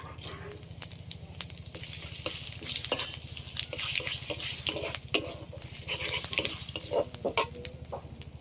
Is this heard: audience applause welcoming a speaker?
no